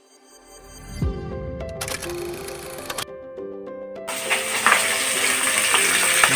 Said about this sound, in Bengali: কাটা পোনা মাছ ভাজা হচ্ছে